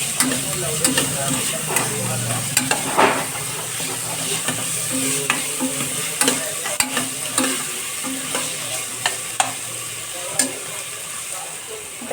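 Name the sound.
sautéing fresh green peas in a pan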